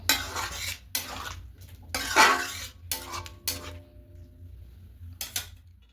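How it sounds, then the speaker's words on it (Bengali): Metal utensil stirring chicken chana masala with ghee in a pan, several scraping, clattering strokes in bursts, then quieter stirring with a final clink near the end. "খুব ভালো করে মিশিয়ে নেব"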